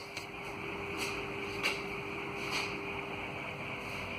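A BLDC ceiling fan running at speed 3 gives a steady, even whoosh of moving air with a faint constant hum and a few soft rhythmic swells, heard close and alone.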